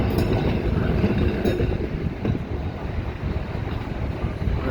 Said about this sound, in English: The classic trams.